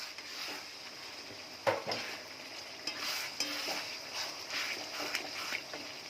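Chopped tomatoes go into onions fried until red in a pan, with a steady sizzle, irregular spoon scrapes and knocks against the pan, and a few louder clatters throughout.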